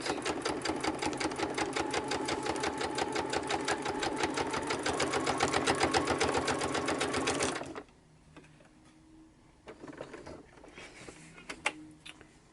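A sewing machine stitches tags and journal cards for a junk journal, running steadily and loudly for about eight seconds, then stopping, followed by faint handling noises and a few soft clicks.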